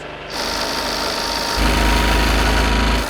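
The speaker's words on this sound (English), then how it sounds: "Oh no, the BMW is going to die. I can hear it going." A BMW engine running flat out with its oil drained, close and loud, with a steady buzzing, knocking drone that grows heavier and deeper partway through.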